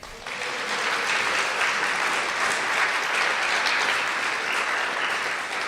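Audience applause at a live radio-play stage performance, a loud, dense, steady wash of clapping from a full crowd that carries on evenly for several seconds with no talking.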